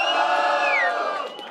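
Audience at a Batalha do Galo rap battle semi-final erupting in loud cheering and whoops, a dense roar of many voices with rising yells that holds strong, then tapers slightly near the end.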